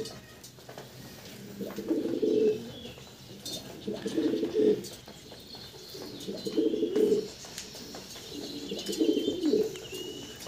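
Pigeons coo close by in four spaced bursts of soft, throaty rolling calls, with faint background sounds between them and no talking.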